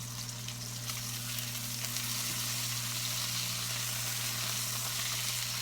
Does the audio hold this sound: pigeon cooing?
no